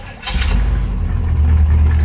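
A 1955 Chevrolet Bel Air with a recently rebuilt engine and dual exhaust starts up, catching quickly and settling into a loud, close, low idle rumble.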